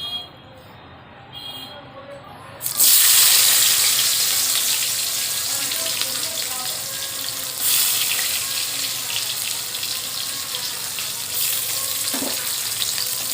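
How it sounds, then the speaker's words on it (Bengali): Chopped onions fry in a wok: after a quieter start, a loud sizzle bursts in as they hit the hot oil and then continues steadily, with a brief surge partway through. "পেঁয়াজটা একটু লাল লাল করে ভেজে নেব"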